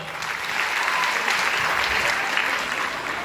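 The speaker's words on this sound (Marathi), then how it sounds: "एकदा ह्या सर्वांसाठी जोरदार टाळ्या वाजवा" An audience at the Manohar cultural festival in Ambajogai claps loudly and continuously, a dense, even wash of applause rising slightly and holding steady for a few seconds.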